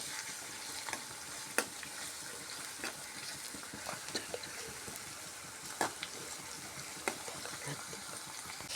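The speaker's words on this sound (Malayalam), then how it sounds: "ഇത് പച്ചമണം മാറുന്ന വരെ നമുക്ക് ഇളക്കി കൊടുക്കാം." Green chillies stirred and frying in a pan of hot oil, a steady soft sizzle broken by scattered clicks and scrapes of the spoon, close and moderately quiet with no talking.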